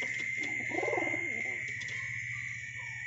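Fancy pigeons at a farm coo nearby, a soft rolling burble over a steady background hum and faint chirps.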